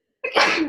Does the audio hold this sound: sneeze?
yes